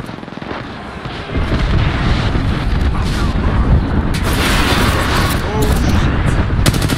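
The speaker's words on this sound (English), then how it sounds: "Heads up, we got an airstrike on us." Rapid, continuous barrage of airstrike explosions from Apex Legends, loud and dense with crackling blasts piling over one another for several seconds.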